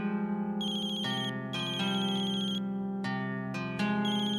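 A mobile phone ringtone plays loud and close, a steady melodic tone pattern repeating with no voices over it.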